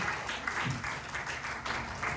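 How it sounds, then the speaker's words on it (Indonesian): A church congregation gives a round of applause, a steady muffled patter of many hands heard from some distance at a fairly low level. "Beri tepuk tangan yang meriah negara kita"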